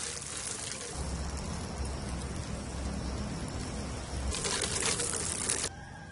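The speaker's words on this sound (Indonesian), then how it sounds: "Oke, selesai, kita langsung siram saja." Water poured over organic tomato plants in a home yard garden, a steady broad splashing and pattering that swells louder near the end, with no talking.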